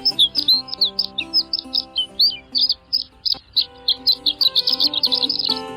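Horned lark in its high display flight gives a tinkling song of rapid high chirps and twittering notes, clear and steady over several seconds with a faint musical background behind it.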